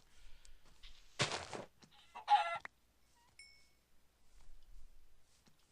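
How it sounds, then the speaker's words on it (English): Chicken clucking in the video game Minecraft, several short bursts of game sound effects spread over a few seconds, moderately loud with quiet gaps between them. "Let's kill the chicken."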